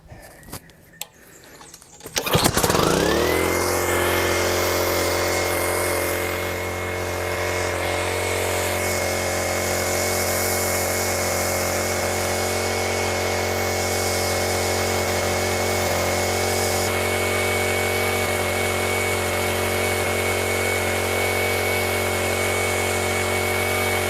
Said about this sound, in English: The motor's definitely running too fast though.